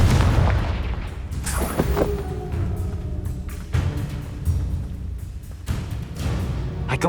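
In the Hogwarts Legacy video game, a Confringo blasting curse sets off a heavy boom, followed by several more bursting explosions and crackling debris, loud and punchy in the game's combat soundscape.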